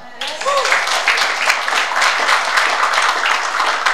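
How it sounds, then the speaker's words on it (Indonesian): A church congregation gives applause during a sermon, a steady wash of clapping for about four seconds with a brief vocal sound near the start. "Beri tepuk tangan."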